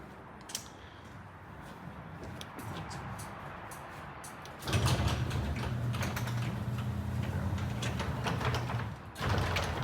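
A portable garage's automatic door with faulty sensors starts moving down about halfway through, giving a steady mechanical rumble and whir under rattling clicks, before a brief pause and another burst.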